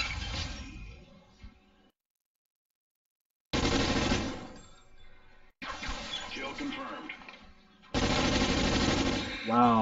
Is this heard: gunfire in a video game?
yes